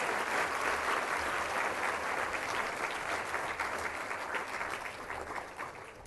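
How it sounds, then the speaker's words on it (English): Round of applause for three finalists at a health awards ceremony for Registrar of the Year, a steady, fairly distant wash of many hands clapping that tapers slightly toward the end. "please, a round of applause for all three of these finalists"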